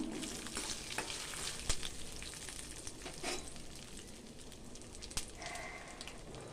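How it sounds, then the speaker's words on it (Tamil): Lentils and garlic fry with curry leaves in hot oil for a curry-leaf thokku, giving a continuous close sizzle with brief crackles and occasional stirring scrapes. "இது கொஞ்சம் நேரம் நல்லா வறுக்கட்டுங்க."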